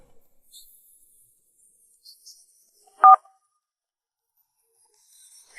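A single short telephone keypad tone sounds clearly in an otherwise near-silent room, with only a few faint, scattered background noises before and after it.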